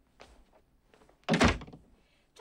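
Door pushed shut with a single solid thunk at close range, preceded by faint footsteps and a soft voice.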